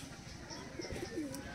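Pigeons in a loft give soft, throaty coos, a few low warbling calls over a faint, steady background murmur.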